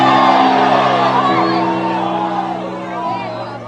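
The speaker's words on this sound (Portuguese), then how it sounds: "Posso ouvir mais um grito de glória a Deus aí?" An evangelical church congregation shouts glory to God during a Portuguese-language sermon, a loud, sustained crowd roar of many voices that eases off slightly toward the end.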